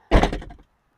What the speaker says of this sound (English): You can pop the door open very easily like this